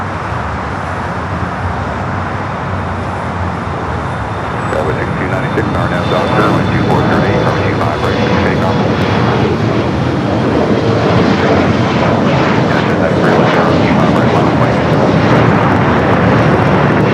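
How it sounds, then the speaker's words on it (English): A Delta Airbus A350 jet airliner roars steadily and loudly close by at LAX, building slightly and holding a broad, continuous engine rush for the whole stretch, with a faint tonal whine above the roar. "One of those Delta A350s."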